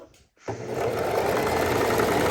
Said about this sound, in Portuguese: Vou costurar aqui as duas partes, uma em cima da outra, tá?